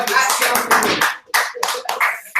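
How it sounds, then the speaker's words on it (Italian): A small group claps for on-screen hearts during an Italian livestream among friends, a few bursts of close, uneven handclaps mixed with chatter and laughter. "Applauso ai cuori."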